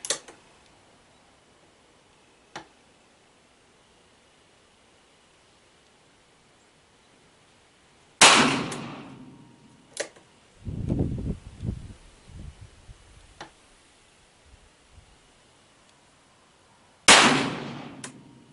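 Three sharp revolver shots from a .38 fired from a Ransom rest with hand-loaded wadcutters, each a loud crack, spaced several seconds apart, with faint handling clatter between them.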